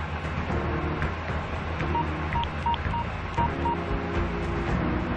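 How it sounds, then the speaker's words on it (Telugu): Telephone keypad tones beep in an evenly spaced run of about six presses as a number is dialed, standing out over a steady loud background hum. "నా అసిస్టెంట్ సురేష్కి డయల్ చేశాను."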